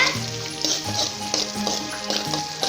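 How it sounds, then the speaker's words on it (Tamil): Cumin, black pepper and chopped tomato sautéing in a hot pan, a continuous close sizzle broken by repeated stirring scrapes, with no voices. "சிறிதளவு மிளகு போட்டுக்கலாங்க நல்லா வதக்கி விடுங்க"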